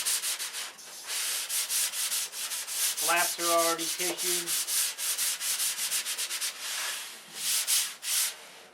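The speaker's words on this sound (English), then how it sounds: "this is just a light sanding on the wing, but a sanding nonetheless" Steady rhythmic strokes of light hand sanding on a doped wing rasp back and forth, close and even, while a voice talks briefly partway through.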